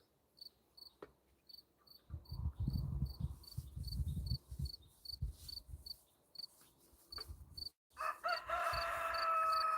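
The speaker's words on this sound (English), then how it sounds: "I hear the roosters" A rooster crows loudly near the end, after a stretch of outdoor ambience with steady cricket chirps and low rumbling.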